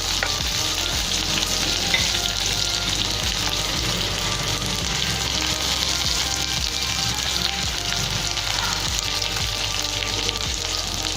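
Dried red chillies, green chillies, ginger and curry leaves crackle in hot oil for coconut rice, a loud dense sizzle that holds steady throughout with occasional stirring, no voices.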